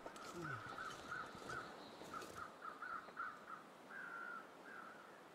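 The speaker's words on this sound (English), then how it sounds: "I guess those are weather crows." Crows caw repeatedly inside a video game, a steady series of harsh calls set over a constant ambient hiss of wind, with a longer drawn-out caw near the end.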